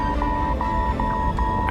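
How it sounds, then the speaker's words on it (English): A repeating cockpit warning tone on an Aeroflot airliner, signalling that the autopilot has disengaged, beeps about four times at an even rhythm, clear and close over a low cabin hum. "an alarm begins to sound. It signals the complete shutdown of the autopilot."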